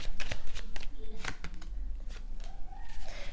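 Tarot cards shuffled and drawn by hand during a reading: a run of quick papery riffles and flicks, close and fairly soft, with a few sharper snaps, and a voice murmuring faintly underneath.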